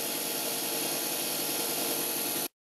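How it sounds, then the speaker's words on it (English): A loud, steady, high-pitched power drill whine drilling out rivets on a toy car runs continuously for a couple of seconds, then cuts off abruptly into silence. "Phase two, we're gonna drill out our rivets."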